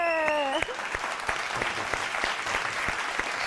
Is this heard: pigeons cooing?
no